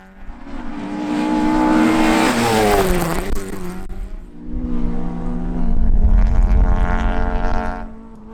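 Rally cars, an 8-valve Ford Escort and a Mazda MX5, race past on a stage, two loud engine passes with rising and falling revs and gear changes, the second car arriving after a brief lull.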